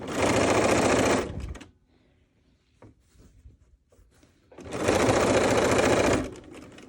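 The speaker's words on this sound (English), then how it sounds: "So even though you're sewing through 3 thicknesses, it's not a big deal." A sewing machine stitches through three layers of cotton fabric in two loud, steady bursts, each about a second and a half long. A quiet pause with faint handling noises separates them.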